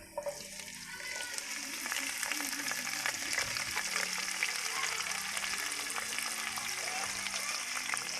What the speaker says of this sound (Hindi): और हम प्याज को भी अच्छे तरीके से इसमें भूनेंगे